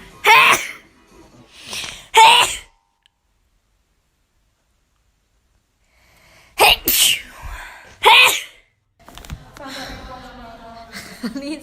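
Several sharp, loud sneezes come in two clusters, two quick ones, then a silent gap and two or three more, followed by softer breathy sounds and throat noise near the end.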